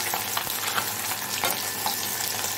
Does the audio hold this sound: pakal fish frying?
yes